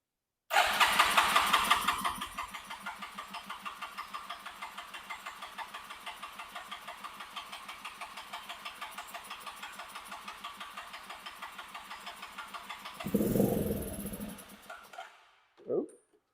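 Suzuki QuadRunner 230 ATV engine firing up after a carburetor float adjustment, catching with a loud burst then settling into a steady, rapid idle putter for about ten seconds before revving briefly and dying; a voice speaks near the end.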